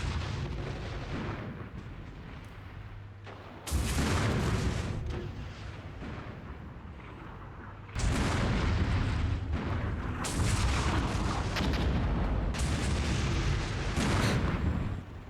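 Artillery fire in the Armored Brigade II strategy game: repeated heavy booms and rumbling detonations roll on continuously, with louder bursts of shelling arriving in waves and no talk over them.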